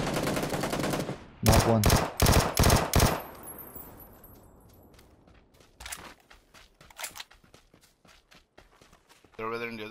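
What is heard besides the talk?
gunfire from a video game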